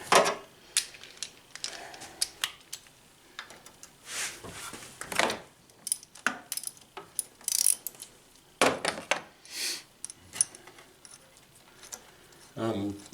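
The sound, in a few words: ratchet removing a 13 mm bolt, Chevy 3100 V6 engine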